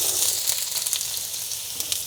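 Shallots sizzle in lemon olive oil in a pan over medium heat as they begin to caramelize, a loud, close, steady crackling hiss with no voices.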